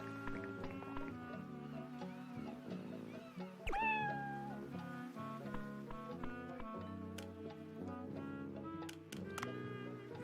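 A cat named Momo gives one clear rising meow in Dave the Diver, heard over steady background music with a few faint later mews.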